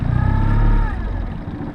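Outboard boat motor while trolling for lake trout on Great Bear Lake, a short loud rev as the throttle is touched, pitch climbing briefly then dropping back to a low throbbing idle.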